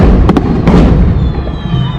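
Loud close explosions at a street parade in Chamula, Mexico: a few sharp firework bangs in quick succession, then a rumbling crowd-filled noise.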